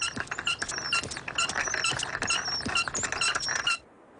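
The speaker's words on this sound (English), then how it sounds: "Oh, those wheels are squeaking a bit." Wheels squeak in a rapid series of high, thin chirps for several seconds, fairly close and without talk, before stopping abruptly.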